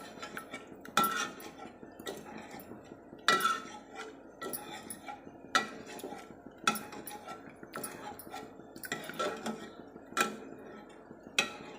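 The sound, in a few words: ladle mashing cooked dal and vegetables in pressure cooker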